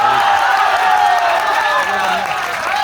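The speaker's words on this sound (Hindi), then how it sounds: "ये आपकी तालियों की गूंज" Sustained applause from an audience at a Hindi poetry recital (kavi sammelan), dense and steady clapping that fills the hall for about three seconds, fading slightly toward the end.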